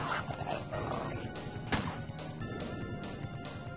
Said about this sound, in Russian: Еще одна собака.